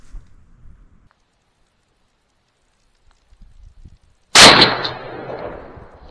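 A single loud, close shotgun blast from a Boss TSS two-ounce load breaks a near-silence broken only by faint shuffling, with a sharp crack followed by a decaying rumble.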